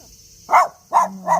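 A dog barks three times nearby, short sharp barks spaced unevenly against a quiet indoor background.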